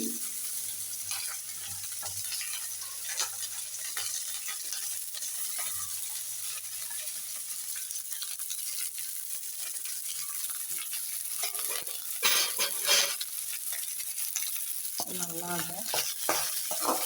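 Onions and green chillies sautéing in a pan, a continuous close sizzle broken by intermittent stirring scrapes and clatter, a few louder scraping bursts near the end, no voices.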